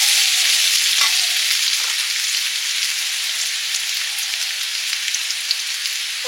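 Radishes from the garden fry lightly in a pan with a little spice water, giving a steady, close hiss of sizzling with faint stirring scrapes and no voices throughout.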